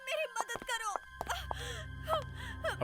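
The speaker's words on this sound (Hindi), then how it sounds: "लड़की के रोने की आवाज।" A girl cries and whimpers in a series of short, strained sobbing wails with gasping breaths, fairly close and loud, over a low steady hum.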